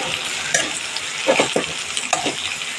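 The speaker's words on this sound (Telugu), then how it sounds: "ఉల్లిపాయ ముక్కలు ఇలా ఎర్రగా వేగితేనే కూరకు మంచి టేస్ట్ ఉంటుంది" Onion slices frying in a pan for a village-style chicken fry, with a steady sizzle broken by several scraping stirs of the spoon, close and fairly loud, no speech.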